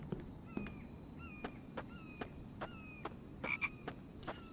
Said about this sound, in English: Yes, I hear you, frog.